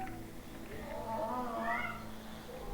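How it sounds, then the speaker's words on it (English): A pet cat named Asta meows softly in a quiet room, one drawn-out rising and falling call over faint background hum. "I hear you meowing, Asta."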